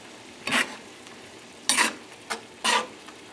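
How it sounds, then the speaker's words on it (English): A spoon stirring sauce in a frying pan for an end-of-summer pappardelle pasta, four separate scraping, sizzling sweeps, close and fairly loud, with quiet pauses between them. "Mix this in the sauce."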